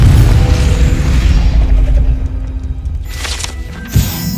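The Confringo spell in Hogwarts Legacy bursts as a loud, deep explosion with a heavy low rumble that gradually decays, followed by a brighter crackling burst and a final thud near the end.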